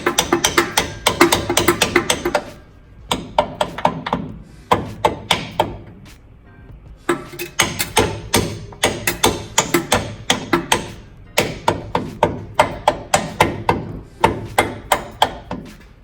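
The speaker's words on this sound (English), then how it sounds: "I'd use a hammer on the other side." Repeated sharp metallic hammer taps in quick bursts as a trailing arm bushing on a Mitsubishi Montero is tapped into place, with brief pauses between runs of strikes, close and loud.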